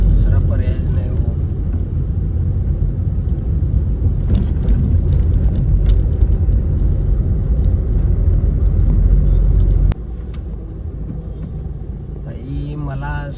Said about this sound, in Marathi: आज अचानक ट्रॅफिक भरपूर वाढले